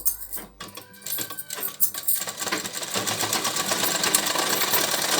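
Sewing machine attaching a sleeve to a ready-made kurti, a few handling clicks and knocks at first, then a steady, building run of fast stitching close by.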